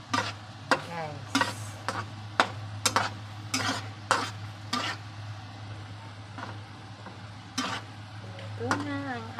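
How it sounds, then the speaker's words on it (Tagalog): Bitter gourd with egg and tuna sautéing in a pan, a steady low sizzle under repeated scraping and stirring strokes of a spatula against the pan, with a few soft voice fragments. "Ito na ang ating ginisang ampalaya with egg and tuna."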